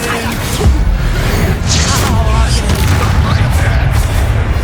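Spell explosions from the Hogwarts Legacy video game, Confringo and Bombarda blasts, boom in a dense, continuous barrage with whooshing bursts over heavy low rumble, loud and close throughout.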